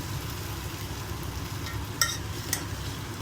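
Poha being stirred in a pan, with a steady low scraping texture and two brief clinks of the spoon against the metal near the end, with no one talking.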